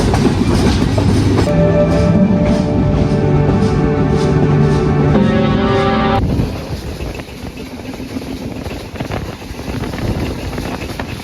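A passenger train from Dhaka to Rajshahi, near Ullapara station, rumbles loudly along the tracks with a steady roar and rhythmic clatter, then the noise drops to a quieter rolling hum.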